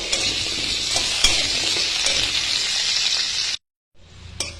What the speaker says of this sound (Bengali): আর এর মধ্যে আমি দিয়ে দিচ্ছি আলুগুলো। আমি একটু ভেজে নেব।